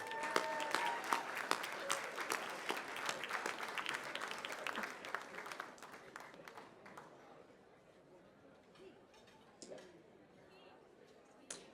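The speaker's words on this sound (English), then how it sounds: "Let's give another round of applause for Keith Moore." Audience applause at an awards program, loud and dense at first and then thinning into scattered claps and murmuring voices as it fades.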